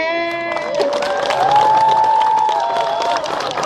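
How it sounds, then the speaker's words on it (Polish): A crowd at a Dominican walking-pilgrimage farewell applauds loudly and steadily, with cheering mixed in and a sustained tone ringing over the clapping. "Oklaski!"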